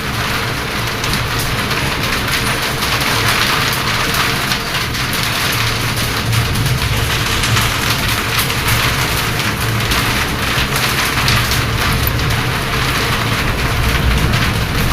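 Steady heavy rain falls on surfaces, a dense continuous patter close by and fairly loud throughout, with no talk.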